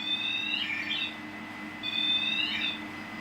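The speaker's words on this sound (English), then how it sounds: "The closer you get to that device, it will alarm and illuminate." A paranormal-investigation proximity alarm sounds in a haunted pub with two separate high, warbling electronic chirps that sweep downward, over a steady low room hum.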